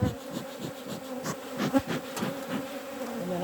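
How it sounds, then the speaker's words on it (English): Honey bees hum and buzz around a double brood box hive in an Irish apiary in April, a close, steady drone with pulsing wingbeats and no talk. "I'm just going to pop around the sides just to get the bees to go down"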